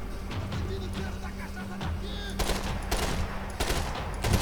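Gunfire in the Max Payne 3 game: a run of broadband shot bursts, heavier in the second half, over a steady rumbling game soundscape with no talk.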